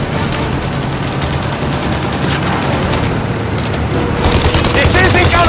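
Heavy gunfire aimed at a plane's engines in Mafia Definitive Edition: loud, sustained rapid bursts over a constant roar that swells toward the end, with voices mixed in.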